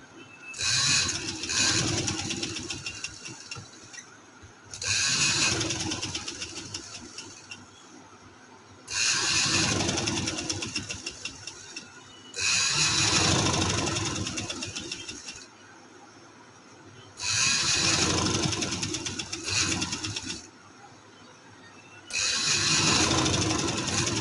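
Sewing machine stitching a trouser, heard in six loud bursts of a few seconds each, separated by short quieter pauses, close and steady with no talk over it.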